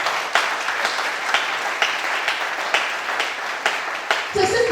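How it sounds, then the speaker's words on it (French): A church congregation applauding during a sermon on the Holy Spirit, with rhythmic, fairly loud clapping throughout and a voice starting to speak at the very end. "Acclamons pour le Seigneur."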